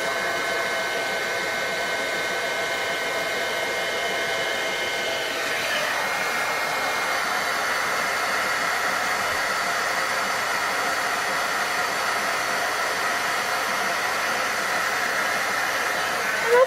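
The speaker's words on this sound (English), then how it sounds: "And then we'll heat this up." A heat gun blows steadily as it melts multicolor embossing powder, a continuous loud whooshing hiss that runs unbroken from start to finish with a slight shift in tone partway through.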